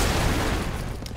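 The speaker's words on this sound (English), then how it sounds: "they just make a really big explosion" A big explosion in the video game Broforce booms as a loud, dense roar that fills the short moment and tails off only slightly at the end.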